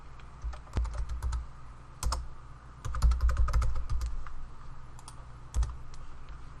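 Quiet computer keyboard typing, with irregular bursts of light key clicks over a low background hum, as a Google Drive folder is renamed.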